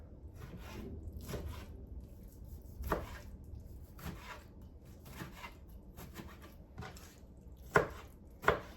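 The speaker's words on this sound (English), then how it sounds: "Cut up the rest of this pepper." A pepper is chopped with a knife on a board: close, soft thuds at an irregular pace, with a couple of sharper, louder knocks near the end and no talk.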